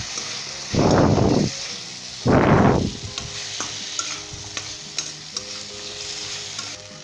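A spatula scrapes scrambled egg bhurji around a karahi in two loud, rasping strokes, then lighter clinks and taps continue over a soft, steady sizzle.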